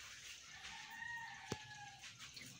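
A rooster crows once in Bohol, Philippines, faint and distant, over a low background hum.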